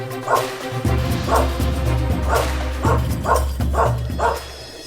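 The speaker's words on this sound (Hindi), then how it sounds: "दिलावर पे भौंकेगा तो मरेगा।" A dog barks repeatedly at close range, sharp woofs coming in an uneven series over a low steady hum.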